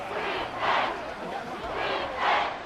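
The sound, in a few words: stadium crowd cheering in the Madden 24 football video game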